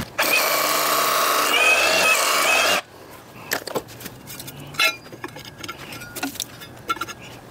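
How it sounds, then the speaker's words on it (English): A loud, steady rotary hammer drills into concrete for about three seconds, then stops, leaving light clinks and handling noises close by. "So I'll drill that with my rotary hammer"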